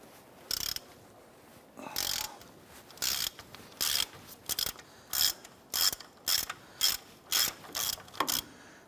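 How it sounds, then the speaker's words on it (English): A hand ratchet fitted with a 15mm socket clicks in about a dozen short, regular bursts while loosening a bolt on a 1993-1997 front control arm, close and fairly quiet with no talking. "Want to go ahead and gain access to this bolt right here using a 15mm socket in your ratchet."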